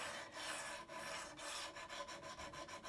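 A draw knife blade is rubbed back and forth along a sharpening stick, producing a close, quiet rasping scrape in steady rhythmic strokes that quicken toward the end, with no talking.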